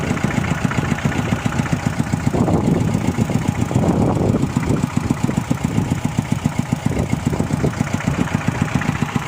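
A small water pump engine idling steadily nearby while driving a centrifugal pump that fills a rice field, with an even, rhythmic chugging that never speeds up, and no voices.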